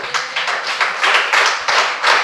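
A Christian congregation claps loudly together at a sermon, dense sustained applause in uneven bursts filling the room, with no talking.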